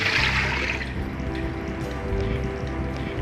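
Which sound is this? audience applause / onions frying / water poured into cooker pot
water poured into cooker pot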